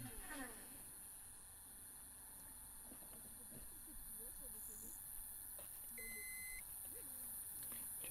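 A beep from astronomy imaging equipment during a live electronically assisted astronomy session at a dam at night, a short steady electronic tone heard once over faint background hiss and murmured talk.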